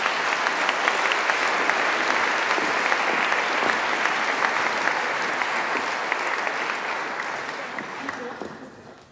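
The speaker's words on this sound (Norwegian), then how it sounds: "Vi gir deg en applaus også." Loud, dense applause from a large audience at a Norwegian panel event with invited guests, a continuous wash of many hands clapping that slowly fades toward the end.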